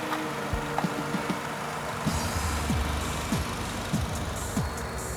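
A 2013 Honda Accord 2.0 petrol engine, in good condition, is revved with quick, repeated throttle blips over a steady idle, each rev rising and falling in short bursts, with no talk.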